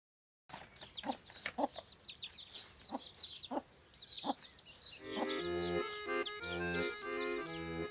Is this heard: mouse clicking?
no